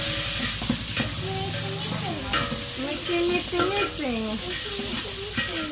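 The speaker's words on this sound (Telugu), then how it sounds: "ఉల్లిపాయలు బీన్స్ అయితే బాగా వాటితో పాటు కలబెడతాను" Onions and beans fry loudly in a pan for pulao, with a constant close sizzle and scraping stirs as people talk over it.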